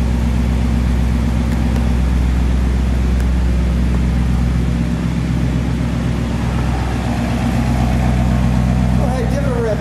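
Steady low exhaust rumble from a 1960 Chevrolet Impala convertible's 348 V8 through dual pipes, idling close and loud with slight swells throughout, with no talk over it.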